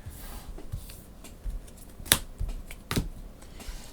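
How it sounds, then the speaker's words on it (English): Ark Nova board game cards being discarded on a tabletop: a few soft papery slides and shuffles, with two sharp crisp card snaps standing out near the end, close and quiet with no talking. "We will discard the cards here."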